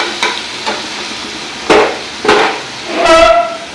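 Chopped onion, green chili, ginger and tomato stirred in hot oil in a pan, giving a few separate scraping strokes of a spatula over a soft, steady sizzle, with no talking.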